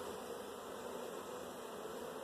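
Honeybees drone in a steady, close buzzing swarm around a hive frame lifted at an apiary, the hum continuous and even with no voices over it.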